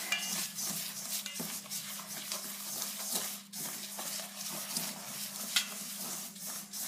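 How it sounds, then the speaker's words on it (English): A gloved hand works a bath bomb mixture in a bowl, producing soft, irregular rustling and squishing scrapes, quiet and close, with rapid uneven strokes throughout. "we slowly drizzle it in, slowly, a bit at a time, and mixing furiously with your gloved hand"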